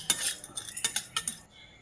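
Urad dal and chana dal roast in a spoonful of oil in a pan, a spoon scraping and stirring in about seven quick, close strokes with a faint dry rattle, then briefly quieter.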